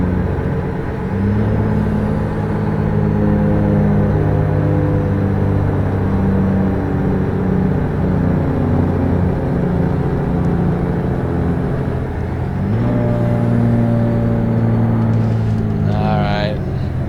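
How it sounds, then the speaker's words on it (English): A truck with a Detroit diesel engine in American Truck Simulator drones loudly and steadily, its pitch sinking near the twelve-second mark, then climbing again as the engine revs back up. "Man, I love the sound of this Detroit engine."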